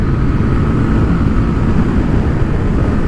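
A 2015 Honda CB300F motorcycle engine held at full throttle climbing a hill, a loud, steady drone dominated by low rumble with wind noise mixed in, continuous for the whole stretch and no talking.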